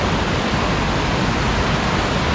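Heavy rain and a fast-flowing river roar at a campsite at Lubuk Petai in the dark, making a loud, constant wash of noise with no talking.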